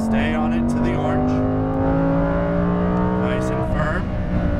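A Lamborghini Huracan Performante engine pulls on a race track at high revs, a loud sustained drone that climbs in pitch with a brief shift, heard from inside the car.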